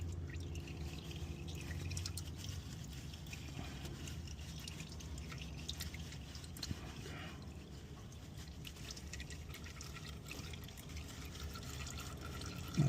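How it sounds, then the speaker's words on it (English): Transmission fluid draining from a 2021 Hyundai Palisade during a fluid service, a steady trickling, dripping pour into a pan that continues unbroken for the whole stretch at moderate level under shop background noise. "while that's the oil on the tranny is draining"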